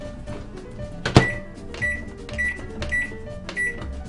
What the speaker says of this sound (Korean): 전자레인지로 돌려보고